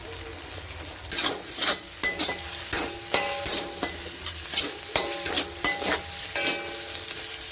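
Parsley chilli prawns with fresh coriander stir-fried in a pan: a steady sizzle broken by regular spatula scrapes and knocks roughly every half second, close and clear, with no talking.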